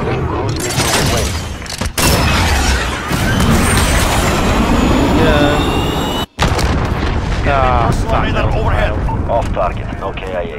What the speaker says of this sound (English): Cruise missile ready to launch. Target marked. Hit them now. Process to go. Cruise missile away.